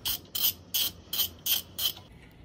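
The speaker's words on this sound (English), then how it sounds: "take your 14mm socket, put it on the bottom bolt, and just break that loose" Ratchet with a 14mm socket breaking loose the bottom brake caliper bolt on a 2006-2007 Subaru Impreza Outback, giving six quick, crisp clicking bursts in a steady rhythm, close and fairly quiet.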